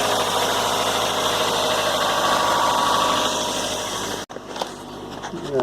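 A cold Toyota engine idles steadily after a morning start, a continuous mid-pitched hum with slight vibration, fairly close, then briefly cut off and followed by a softer shifting tone near the end.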